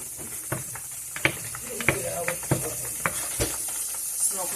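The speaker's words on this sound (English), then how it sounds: "So we got them onions caramelizing." Onions caramelizing in a hot pan give off a steady sizzling hiss, broken by scattered crackles and pops and a few sharper clicks, close and fairly loud.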